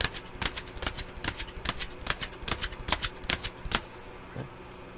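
Tarot cards being shuffled by hand in a steady run of crisp riffling slaps and flicks, close and fairly loud, with no talking and a brief quiet pause near the end.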